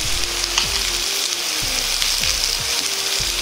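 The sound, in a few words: pork and bean sprouts frying in a pan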